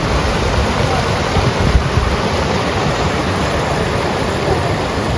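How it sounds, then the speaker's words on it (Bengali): The Subarnarekha river current at Ghatshila rushes past rocks, a continuous, even hiss and roar of flowing water, close and fairly loud, with no other sounds breaking through. "শুনতে পারবেন সুবর্ণরেখার স্রোতের আওয়াজ"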